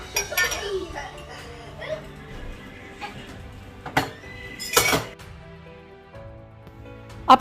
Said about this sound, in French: je passe ranger un petit peu la vaisselle qui traîne dans la cuisine